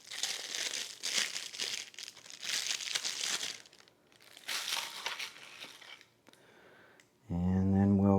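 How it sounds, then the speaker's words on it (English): Packaging around a new automotive relay is unwrapped, with bursts of crinkling and tearing plastic up close, pausing briefly between handfuls, before a voice starts talking at the end. "And we're gonna unbox it,"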